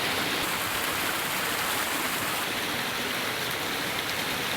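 Waterfall on a mountain lake in the Carlit massif of the Pyrenees, a loud, steady broadband rush of falling water without a break, no talking.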